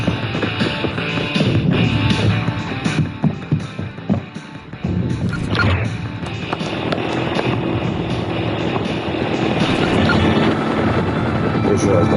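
A helicopter in a console survival shooter, a steady broadband rotor and engine drone holding throughout amid game ambience, with a brief dip midway, while players talk over it.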